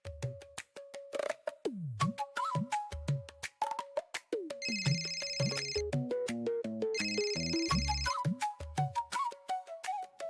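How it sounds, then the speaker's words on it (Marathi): A mobile phone plays a melodic electronic ringtone, bright repeating tones that go on steadily for about ten seconds, loud and close with no talking over it. "स्वानंदीचा फोन आहे."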